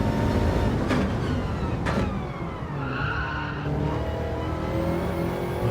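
A race car skids in a racing video game, its tires squealing over a steady engine roar that rises and falls as the car slides through a corner.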